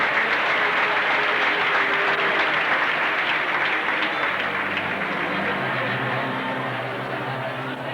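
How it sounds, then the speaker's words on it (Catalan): A crowd at the Festes de la Soledat town festival in Ondara gives town councillors strong, sustained applause, a thick wash of many hands clapping that fades slightly toward the end. "Un fort aplaudiment per a ells."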